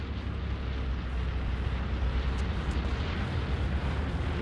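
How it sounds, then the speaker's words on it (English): Bombing run in the World War II shooter game Hell Let Loose, a continuous distant rumble of explosions and heavy battlefield din, steady and moderately loud throughout. "get ready to push after the bombing run"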